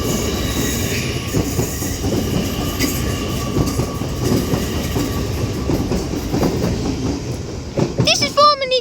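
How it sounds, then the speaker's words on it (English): A TransPennine Express Class 802 train runs past at Edge Hill in Liverpool, with a sustained rumbling roll and rail clatter throughout, then high wheel squeal near the end. "This is formerly delayed 1449 Transpennine Express service to Liverpool Lime Street from Newcastle with a Transpennine Express Class 802."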